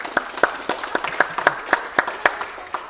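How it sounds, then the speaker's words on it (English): A small group clapping in an uneven rhythm at a live-streamed gathering, with a few distinct, close hand claps that thin out after about three seconds. "let's give a round of applause"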